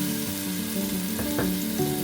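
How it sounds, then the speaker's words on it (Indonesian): Garlic, ground pepper, nutmeg and salt sauté in a pan, giving a steady close sizzle with a few brief scraping stir sounds. "mau menumis bumbu bawang putih, merica bubuk, pala bubuk, dan garam ya"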